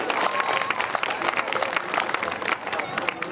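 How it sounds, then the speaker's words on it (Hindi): A crowd at a Ram Lila gathering applauding, a dense sustained patter of many hands clapping close by with a voice talking over it. "बहुत तालियां होनी चाहिए जरूर।"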